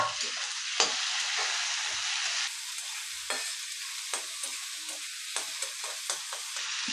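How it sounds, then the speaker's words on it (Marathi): Tomatoes sautéing with garlic in a pan for soybean bhurji make a steady, hissing sizzle, punctuated by regular light spatula taps and scrapes as they are stirred, with no one speaking. "तर याच्यात आता आपण टोमॅटो घालूया. आणि टोमॅटोही आपल्याला थोडासा असा परतून घ्यायचा."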